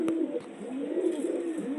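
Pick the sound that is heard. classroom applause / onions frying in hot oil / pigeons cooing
pigeons cooing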